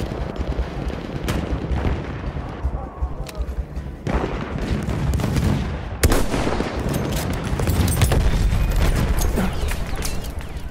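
Battlefield 1 gunfire on hardcore mode: loud, sharp rifle cracks and booming shots come in scattered bursts over a rumbling battlefield din, with dense rapid firing in the second half and no voices.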